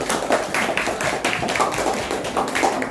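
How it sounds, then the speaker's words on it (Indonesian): Pupils in a classroom clap together in a sustained, busy burst of close, sharp hand claps, loud and continuous across the whole stretch with no talking. "Ya, tepuk tangan untuk semuanya."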